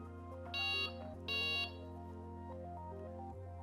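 Delkim Txi-D digital bite alarm on a fishing setup, giving two short loud electronic beeps in quick succession over a low steady tone, then going quiet.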